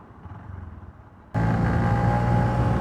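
A 2023 Honda CB125F with a modified airbox cruises on the freeway. Faint low engine rumble and wind give way abruptly to a louder, steady buzzing engine drone with a constant hum.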